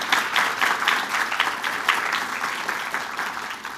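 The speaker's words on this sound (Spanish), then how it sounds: "Un aplauso, por favor, a nuestro invitado." An audience at a university event in Lima applauds a welcomed guest: a steady, moderately loud wash of many hands clapping, holding evenly for several seconds.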